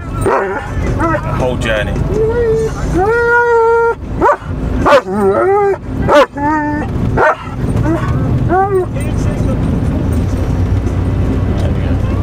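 A dog barks, yips and howls with its head out of a camper van window during a road trip in Europe, bursts of loud, close barking and whining repeated over several seconds, with a person talking nearby.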